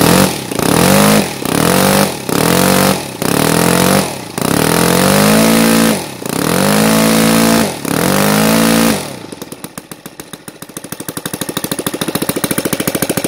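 An NGH FG 38 engine with CH Ignitions timing set to 30 degrees BTDC revs loudly in a series of short, sharp throttle bursts, then settles into a steady, rattling idle.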